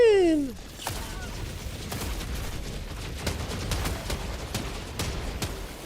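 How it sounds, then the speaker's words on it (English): Grenade launcher shots in Helldivers 2, a string of sharp evenly spaced blasts over steady battle noise, following a brief rising electronic whine at the start. "6 shots from nade launchers?"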